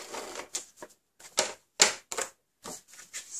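An ATG adhesive tape gun runs tape onto card for an inner Z-fold greeting card, giving a series of short clicking, ratcheting bursts with brief silent gaps between them, close and fairly quiet.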